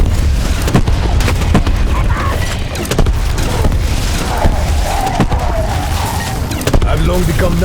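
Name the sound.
explosions in a video game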